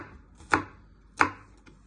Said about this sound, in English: Then you place your knife on top, press down. Then you slice it.